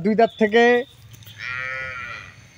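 A Holstein Friesian cow lets out a loud, close moo, followed by a second, fainter drawn-out call.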